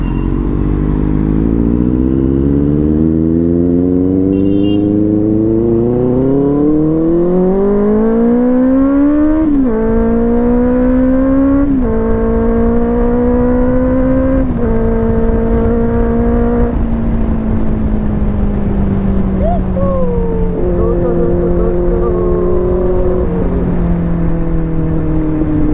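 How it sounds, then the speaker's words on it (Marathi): A car engine revs and accelerates, its pitch climbing steadily and then stepping through several gear changes, loud and close with no talk over it. "फुल पैसा वसूल आवाज आहे गाडीचा"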